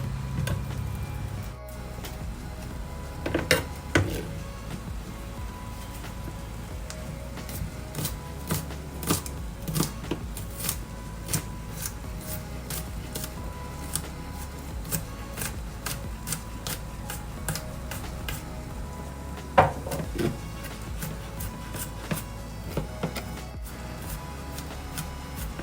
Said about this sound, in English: I'm chopping up the garlic.